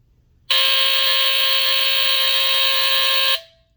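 A Honeywell TC49D-1028 AC smoke alarm's harsh, raspy buzzer blares loud and steady for about three seconds, then cuts off abruptly in an otherwise quiet room.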